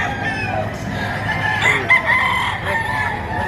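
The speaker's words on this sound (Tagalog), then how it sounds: "Bull stag na ito mga idol." A bull stag rooster crows loudly and close by at a busy poultry market in Batangas, one drawn-out call over a constant hubbub of other fowl and market noise.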